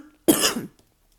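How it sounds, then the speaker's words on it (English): A single short tickly cough from a woman, close and fairly loud, one dry burst followed by silence. "I've got such a tickly cough"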